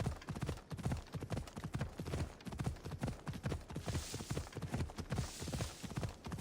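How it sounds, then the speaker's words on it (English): Steady, rhythmic clip-clop of horse hooves at a trot in Assassin's Creed Odyssey, close and continuous, with faint background ambience. "I'm sure I could get there with my horse quite easily"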